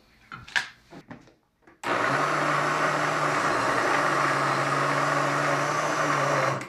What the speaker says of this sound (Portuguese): Nós vamos pegar o arroz e nós vamos triturar ele no liquidificador.